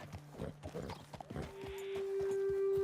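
Horses clip-clop along a trail in the Red Dead Redemption 2 video game, a steady run of close hoof beats that gives way to a sustained tone near the end.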